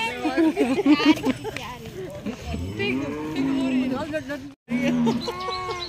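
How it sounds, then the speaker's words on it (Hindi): Buffalo lowing on a farm, with repeated harmonic moos of varying length close by, cattle-like and fairly loud, while people talk and other animals and birds are faintly around. "ये अरीबा की है ये वाली अरीबा भैंस है"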